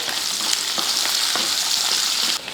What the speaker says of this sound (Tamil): ஒரு பெரிய வெங்காயம் இதை வதக்கிடுவோம்